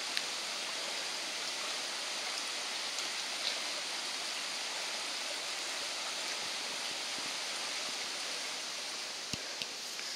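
Wilson Creek flowing through the Grayson Highlands of Virginia, a steady, close, broadband rush of moving water that stays even throughout, with a couple of small clicks near the end.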